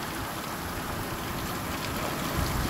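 Heavy monsoon rain pours down in Gevrai taluka, a dense steady hiss of drops with a faint low rumble, constant and loud throughout with no voices.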